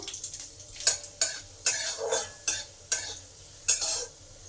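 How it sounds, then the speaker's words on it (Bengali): Garlic frying with cumin in hot oil sizzles steadily while a spoon scrapes the pan in about seven evenly spaced strokes, close and clear, no voices. "জিরেটা ভাজা হয়ে গেলে রসুনগুলো দিয়ে দেবো"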